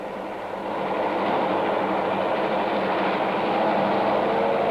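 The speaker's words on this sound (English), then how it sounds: "Ore train number 13 passes through siding after siding" An ore train rolls steadily past jungle sidings on a Liberian mining railway, a continuous loud rumble and roar of wagons that swells slightly and holds, with no voices.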